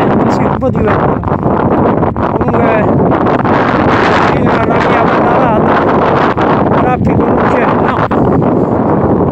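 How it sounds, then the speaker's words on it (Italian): Wind gusts at a disused sugar factory in Avezzano, a loud continuous rush buffeting the microphone, with a person talking intermittently over it. "C'è un po' di vento, sì, un po' di vento."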